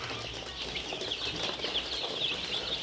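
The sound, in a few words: tiger chicken chicks at a poultry farm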